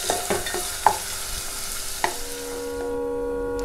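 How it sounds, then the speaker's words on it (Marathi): Onion sautéing with curry leaves in a pan until pinkish and soft, crackling and sizzling softly with a few sharp clinks of a spoon against the pan, close by, ending in a steady hiss, with no talking. "जरा हे चांगलं गुलाबी होईपर्यंत आपण हा कांदा परतून घेऊया"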